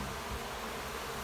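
A colony of bees living inside the wall of a mobile home gives a steady, dense buzzing hum that holds at an even level throughout, close and continuous with no talking.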